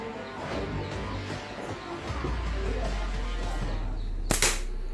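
A handmade teak wood slingshot is fired outdoors at a target about five meters away. One sharp, sudden crack of the shot striking the target is heard near the end over a low background rumble.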